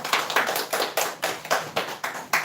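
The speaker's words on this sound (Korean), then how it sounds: "예, 박수하겠습니다." Church congregation clapping during a Sunday service, a regular series of crisp rhythmic claps from a small group, evenly spaced and moderately loud, with no talking.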